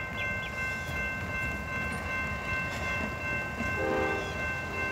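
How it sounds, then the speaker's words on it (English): Amtrak Silver Star passenger train passing through CSX's Moncrief rail yard, a steady low rumble of rolling cars with a sustained horn tone layered on top, moderately distant and continuous. "here comes P091, Silver Star to Miami"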